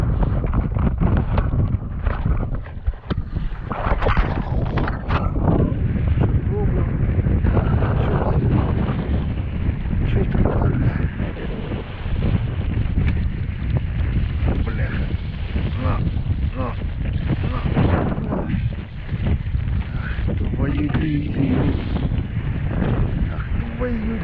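Strong wind buffets the microphone on open water beside a boat, a continuous loud roar and rumble throughout while a voice talks intermittently over it.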